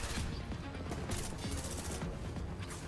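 Gunfire rattles in the video game Girls' Frontline 2: Exilium, with dense overlapping bursts of shots and impacts packed into a few seconds. No voices are heard.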